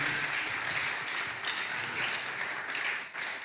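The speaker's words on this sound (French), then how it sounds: "Acclamons Jésus" A church congregation applauds in acclamation of Jesus, a dense, sustained wash of clapping from many hands filling the room, steady and close throughout.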